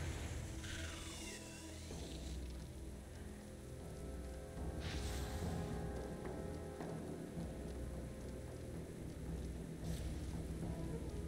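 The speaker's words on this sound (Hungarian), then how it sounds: "Meg lettek villámcsapva." Steady rain pours down with rumbling thunder and sharp lightning cracks in a World of Warcraft: Dragonflight stormy scene, a dense continuous wash with several louder strikes and no talk.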